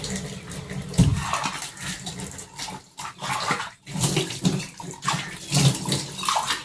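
A tea glass is washed under a running kitchen tap: steady water splashing with bursts of rinsing and glassy knocks, close by and loud, without speech.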